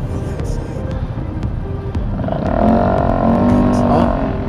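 A small motorbike engine rises and passes close by, its buzzing drone growing louder midway over a steady street background.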